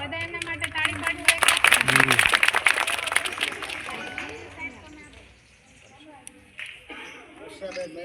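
An audience at a school midday-meal cooking competition claps, a loud burst of dense applause that tapers off after a few seconds, followed by people talking.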